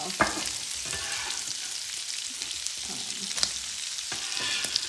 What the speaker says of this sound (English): just dumping this all into the skillet. I'll give it a quick stir